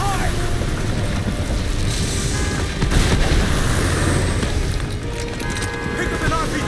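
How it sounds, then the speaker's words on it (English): A heavy explosion rumbles through the Call of Duty Modern Warfare Remastered battle after an RPG hit, a loud, dense roar of blast and gunfire debris filling the scene under continuous combat noise. "Wow, nice effect of the explosion."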